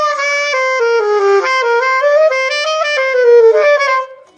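A solo saxophone with a leaking octave key plays a wavering, slightly unstable melodic line, its pitch jumping and wobbling as notes crack toward the upper register without the octave key pressed.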